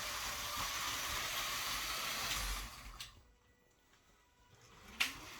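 A 9 volt DC model train runs along its track with a steady, close whirring hum and rail rumble that cuts off partway, leaving quiet with a brief click near the end.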